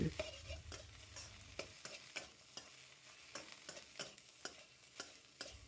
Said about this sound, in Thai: ผัดคลุกเคล้าส่วนผสมทุกอย่างให้เข้ากัน